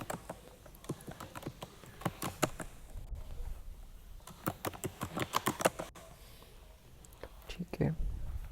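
Keys clatter on a computer keyboard as configuration commands are typed, in quick irregular bursts of sharp clicks with pauses between, fairly close, under a man's quiet speech.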